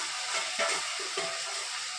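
Ginger paste fries in a pan with a faint, even sizzle and a couple of soft stirring scrapes, quiet and close with no voices.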